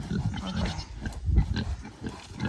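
A pig on a small goat homestead grunts and oinks in a dense run of low, snorting bursts, close and fairly loud throughout, with no talking over it.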